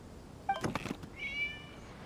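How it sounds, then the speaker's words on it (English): A cat meows in a video game event quest: a brief squeak-like call, a few soft rustling bursts, then one drawn-out, clear meow that trails off, fairly close and alone without talk. "It was just a cat."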